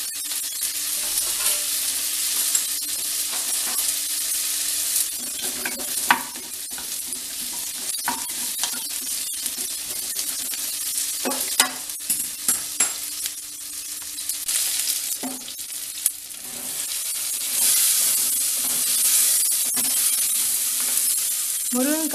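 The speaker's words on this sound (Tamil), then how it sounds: "நம்ம தனியாக மாங்காயை வதக்கி வச்சுக்குவோம். ஆயில் வந்து 1/2 ஸ்பூன் ஆயில் ஊற்றிருக்கேன்." Raw mango pieces sautéing in half a spoon of oil in a pan, with a steady close sizzle and frying hiss, occasional stirring scrapes and clinks, and a faint background hum throughout.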